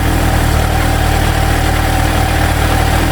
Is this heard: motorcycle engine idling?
yes